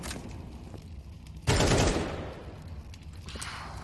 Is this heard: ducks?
no